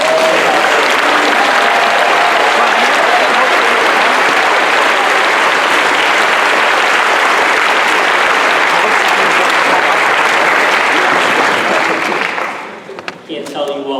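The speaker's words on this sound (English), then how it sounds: "I'll go one more round of applause for all of our award recipients." Sustained, loud applause from a large audience at a senior awards night for award recipients, an unbroken wash of clapping for about twelve seconds before fading as a voice begins speaking.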